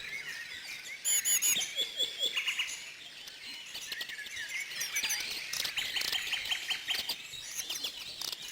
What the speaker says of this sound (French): C'est la mésange à longue queue.